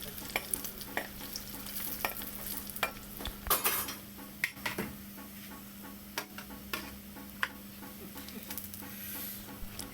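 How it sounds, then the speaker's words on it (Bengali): Browned garlic and dried red chillies fry in hot oil with a steady, quiet sizzle, broken by frequent sharp taps and scrapes of a spatula stirring in the pan. "দিয়ে ফ্রাই করে নেবো তেলেতে"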